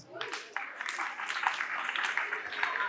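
Children in a school classroom clap for themselves, a quick burst of scattered, fairly faint applause with voices mixed in.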